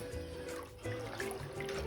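Hot water pours into a pot of broth for a chicken, ham and kielbasa sancocho, a soft, continuous splashing and trickling heard faintly up close.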